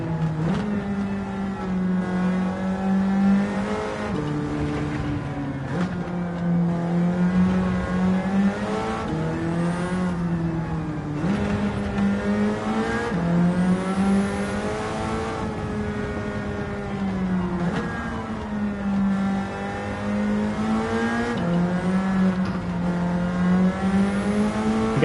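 A Nissan Silvia S13 with a K-series engine swap races in Gran Turismo 7. Its engine revs hard, climbing and dropping in pitch through repeated gear changes, loud and close throughout with no talking.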